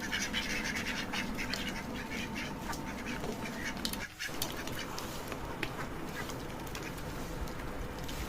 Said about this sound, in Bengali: এই হাঁসগুলো ছেড়ে দেওয়া হলো খাবার খাওয়ার জন্য